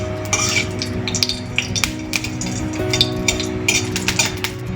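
Five-spice and a bay leaf tempering in hot oil in a pan, with a steady close sizzle, scattered clinks of a spoon and stirring, and several sharp crackles from the seeds.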